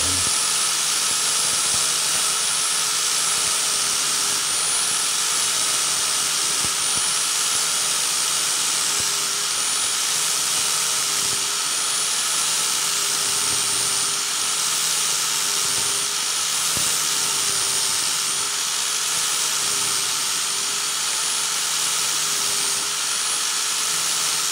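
A rotary tool smoothing the front end of a used rifled gun barrel, giving a continuous high-pitched whine and grinding hiss that holds steady and loud throughout, with no talk.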